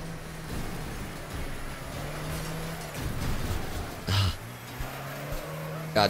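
Engine drone of a bus racing in the Wreckfest video game, a steady motor hum with a brief louder scrape or crunch near the end, under faint voice.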